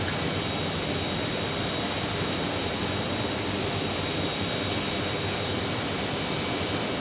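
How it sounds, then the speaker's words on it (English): A Cessna Citation Ultra jet at Phoenix Sky Harbor Airport produces a constant, loud, broadband roar with a high whine on top, heard steadily without pauses. "Cessna Citation Ultra,"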